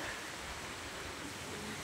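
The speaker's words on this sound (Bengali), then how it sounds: "আসলে প্রচুর বৃষ্টি পড়ছে" Heavy storm rain falls in a short, steady, fairly faint wash of broadband hiss with no distinct drops or voices.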